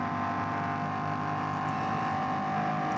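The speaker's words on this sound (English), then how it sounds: "engine noise is about 2 seconds ahead of picture." A race car engine drones steadily during an NLS endurance race at the Nürburgring, a sustained loud, high-revving tone with no break or talk.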